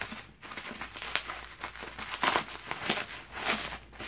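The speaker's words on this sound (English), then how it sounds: "So let's cut this open." A package being cut open, its wrapping crinkling and rustling in close, irregular bursts for a few seconds, with no talking.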